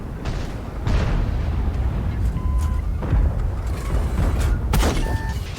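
Repeated heavy tank cannon booms in a video game, over a constant low engine rumble, with a few brief electronic tones in between.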